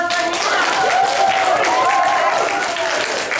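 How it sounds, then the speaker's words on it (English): Audience clapping and applause at a quiz-style game show, a steady burst of many hands close up, with some voices mixed in. "Let's give a big round of applause for"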